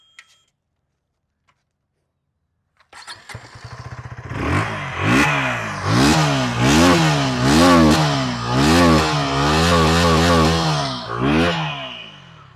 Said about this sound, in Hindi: तो ये है साउंड नई KTM ड्यूक 160 का